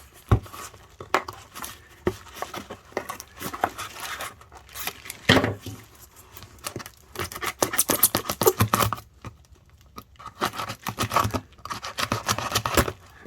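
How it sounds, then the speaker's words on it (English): Scissors snip and scrape through a papier-mâché portrait shell built over a balloon, irregular crisp cuts and crinkling paper close by, with bursts of denser cutting and short pauses between. "You can come in with some scissors."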